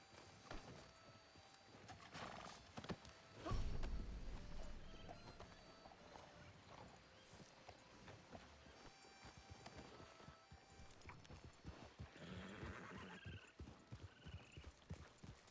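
A horse's hooves clip-clop in a western riding setting, a mid-level rhythmic clatter with a louder burst early on, mixed with background movement and occasional voices.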